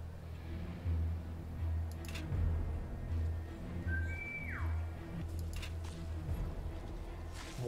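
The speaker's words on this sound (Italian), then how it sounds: "li attiro fischiando a tutti quanti e li faccio fuori" A character in the video game War Mongrels gives a short two-note whistle to lure enemies, brief and clear midway through, over a low droning game soundtrack with faint soft thuds.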